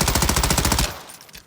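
M13B rifle in Warzone firing a rapid, evenly spaced burst of close, loud shots for most of a second, then cutting off into a short fading tail.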